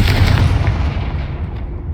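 Confringo blasting spell being cast in Hogwarts Legacy, a loud, booming explosive burst that rolls off and fades over about two seconds, close and with no talk.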